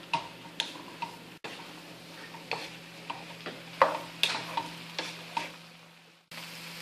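Yellow summer squash cooking in a pan makes a soft, quiet sizzle under a low steady hum, broken by light irregular taps and scrapes of a utensil.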